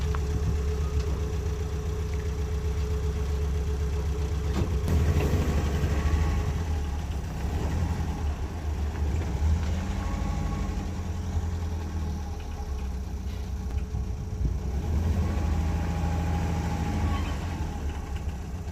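A VW Golf MK1 with a steady low engine drone running throughout at close range, rising slightly as the car rolls back, moves forward and stops.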